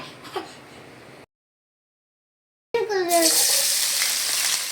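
Green chillies and onions hit hot oil for Telangana restaurant-style chicken fry, bursting into a loud, steady sizzle after a short silence, with faint background noise before it.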